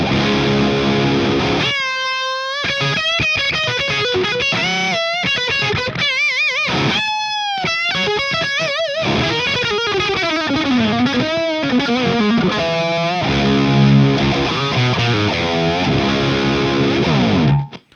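Distorted high-gain electric guitar through a Friedman IR-X, playing fast shred licks with bends, vibrato and chugging low riffs, loud and steady throughout with no voices.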